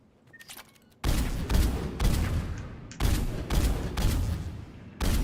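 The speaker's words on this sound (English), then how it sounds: "Striker assault rifle." Striker assault rifle from Mass Effect 3 fires in loud repeated bursts, several heavy booming volleys following a brief quiet lead-in.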